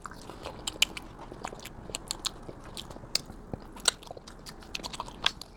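Close, crisp chewing and biting on barbecue-sauced rib tips, chicken and fries, with steady crunchy bites and wet mouth sounds repeating over several seconds, no talking.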